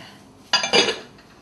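A brief metallic clatter of a pot being set down and shifted, two quick clanks after a moment of near silence.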